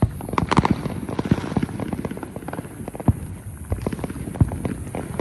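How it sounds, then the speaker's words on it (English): Fireworks on the Fourth of July burst in a rapid, irregular barrage of loud pops and booms, some near and sharp, others farther off, with crackling between blasts and no talk. "There's the big fireworks right there."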